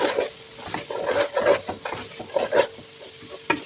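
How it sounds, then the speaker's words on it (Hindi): Vegetables and capsicum fry in a pan for chicken macaroni, a close, steady sizzle broken by repeated scraping stirs of the spoon, with no talking. "थोड़ी देर फ्राई कर लेंगे 4 से 5 मिनट।"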